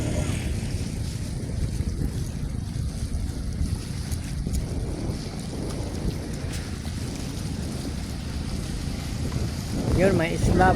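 Sea waves wash and churn around a moving boat, mixed with heavy wind buffeting the microphone; a voice speaks briefly near the end.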